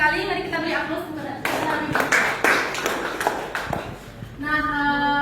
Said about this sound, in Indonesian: Mari kita beri aplaus kepada